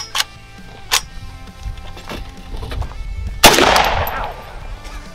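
Sharp gunshots in a shooter video game: a few isolated cracks early on, then a louder, harsher blast with a lingering crackle, with faint talk in between.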